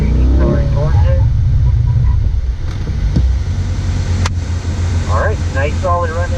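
A C8 Corvette accelerates toward a stop box on a driving-school course, its engine droning loudly and then dropping in pitch as it eases off, with voices talking over the engine near the end.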